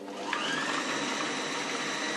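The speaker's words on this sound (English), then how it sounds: "so now we switch the blender on" A kitchen blender making hummus whirs continuously at high speed, a loud, even motor buzz close by with no talking.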